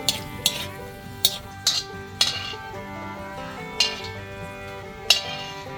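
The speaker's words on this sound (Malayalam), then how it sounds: "ഇത് നമുക്കൊന്ന് വറുത്തിട്ട് കോരി മാറ്റി വെക്കാം" Peanuts and cashews frying in ghee in a pan, a soft sizzle running under a few sharp clinks and taps of a ladle against the metal, no speech.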